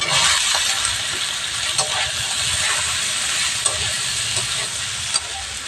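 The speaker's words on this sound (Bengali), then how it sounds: "আলুটা একটু ভাজা ভাজা করে নেবো" Steady loud sizzle of potatoes frying in a pan, with occasional scrapes and clinks of a spoon stirring throughout.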